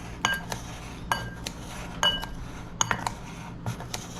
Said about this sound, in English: I just chop it all up.